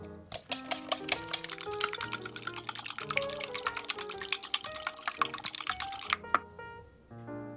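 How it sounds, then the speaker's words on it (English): Eggs being whisked in a bowl for a sweet potato, kale and sausage frittata, a rapid run of light metallic clicks and taps close by, stopping near the end. "Now I'm going to whisk this up until it's fully blended."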